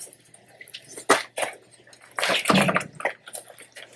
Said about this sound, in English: That's going to drain water out your backwash line.